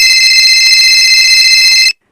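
A loud, steady electronic ringing tone with a bright, buzzing timbre holds for about two seconds, then cuts off abruptly: a phone ringing in Grand Theft Auto.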